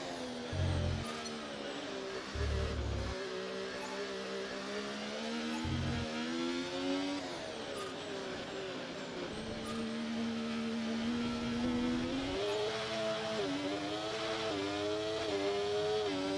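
A 2025 Formula 1 car in a racing game during pre-season testing, its engine note climbing and dropping through several gear changes with rising pitch sweeps, steady and fairly loud, punctuated by short low thumps, no talking.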